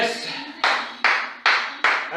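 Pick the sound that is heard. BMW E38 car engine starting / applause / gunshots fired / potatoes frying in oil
applause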